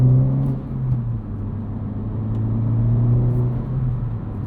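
A 2025 Honda Civic Type R hot hatch on a city commute lets out a loud, close, steady engine rumble and drone that dips briefly and then holds. There is no talk.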